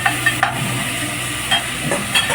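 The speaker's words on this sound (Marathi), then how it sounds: "मस्त ढवळून घ्यायचं आहे" Pea rice being stirred in a hot pan, a steady close sizzle and frying crackle with a few soft scraping strokes of the spoon across about two seconds, no voices.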